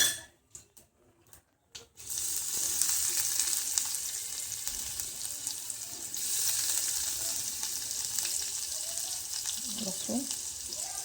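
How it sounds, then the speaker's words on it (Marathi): Crushed garlic and chopped chilli hit hot oil with asafoetida in a pan for a traditional Maharashtrian dish, setting off a loud, continuous close sizzle after a few quiet clinks, with brief stirring near the end. "तेलामध्ये परतून घ्यायचं मस्त."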